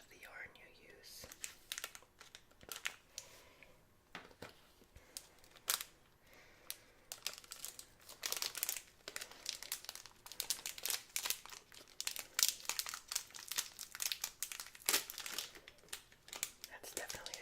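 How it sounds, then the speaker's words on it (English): A craft kit's crinkly plastic package is handled close up, crackling and rustling in irregular bursts that grow busier and louder in the second half, with faint whispery sounds now and then. "That's definitely a crinkly package."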